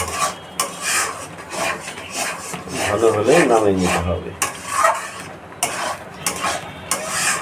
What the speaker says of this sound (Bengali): এটাকে এভাবে নাড়তে হবে যাতে কড়াইতে লেগে না যায়